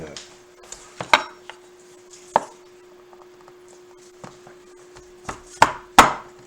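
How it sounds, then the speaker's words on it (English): A knife cuts through food on a hard surface in a home kitchen, giving sharp, separate chopping knocks, sparse at first and then bunching near the end, with quiet handling noise between them. "Actually, it might be better if I took a knife and cut it."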